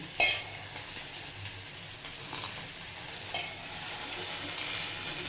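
Okra fries in a pan with garlic, cumin and chillies, giving a low, steady sizzle with a few light stirring clinks and taps, fairly quiet and close; no one speaks.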